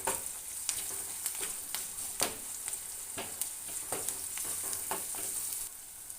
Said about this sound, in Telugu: ఆనియన్ ఫ్రై అయిన తర్వాత అల్లం వెల్లుల్లి పేస్ట్ వేసుకున్నాను